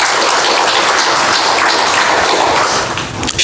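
A church congregation applauds a singer who performed with only a microphone, a dense, loud, continuous clapping that fills the room from start to finish with no voices standing out.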